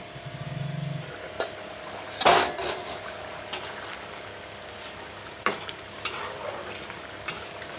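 Egg curry cooks in a covered pan, giving a soft background sizzle broken by scattered clinks and scrapes of a utensil against the cookware, close and fairly quiet.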